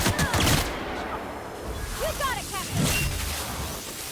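Rapid Gatling gun fire in the video game The Outer Worlds, a dense rattling burst with whooshing effects and booms in a busy game scene, with voices underneath.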